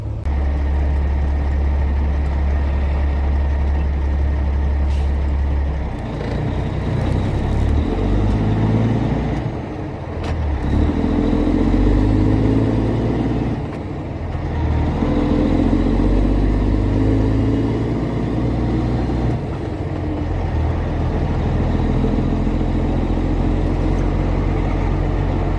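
A loaded tanker truck pulls away and drives on, its engine rumbling deep and loud from close range, the drone rising and shifting through several gear changes with no one talking.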